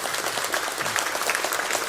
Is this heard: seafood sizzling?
no